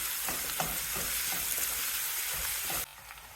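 Red pumpkin pieces with green chili sizzle and fry in a pan while being stirred, a steady close crackle with a few scraping stirs, cutting off near the end.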